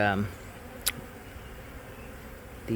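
Honeybees buzz steadily around exposed comb under a shed floor during a removal, a soft continuous drone with a brief sharp noise early on and a voice only at the start and end.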